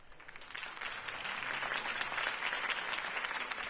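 A video game crowd claps steadily, the applause swelling slightly and holding at a moderate level throughout.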